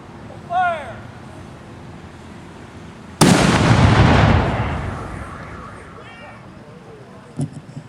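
A ceremonial cannon fires during an Independence Day ceremony: one loud, close boom whose roar rolls out and fades over several seconds, after a short call in a voice.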